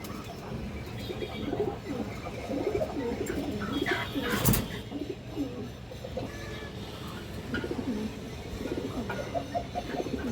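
Pigeons coo softly in repeated low rolling calls from several birds kept in a coop, faint and fairly close, with a brief sharp knock midway through.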